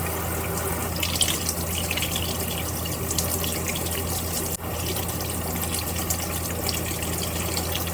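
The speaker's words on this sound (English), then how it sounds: "So just wash your meat." Tap water running steadily into a kitchen sink while pork chops are washed, a loud continuous hiss and splash with little change throughout.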